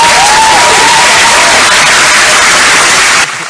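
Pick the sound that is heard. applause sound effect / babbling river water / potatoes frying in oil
applause sound effect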